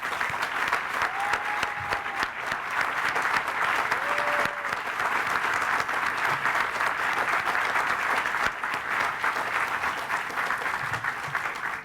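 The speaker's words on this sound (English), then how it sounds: "let's give them a big round of applause" Sustained, dense applause fills a groundbreaking ceremony for NGA West as the audience honors the NGA and U.S. Army Corps of Engineers project teams, with a couple of faint tonal chirps and no speech over the clapping.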